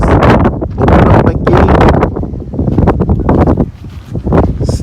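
Strong wind buffets the microphone at a shoreline fishing spot during pouring rain, a loud, continuous rumbling roar that surges and dips in gusts, with rustling on top.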